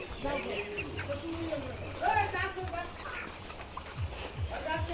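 Layer hens on a poultry farm cluck and murmur in a busy flock at moderate distance, while someone talks over them.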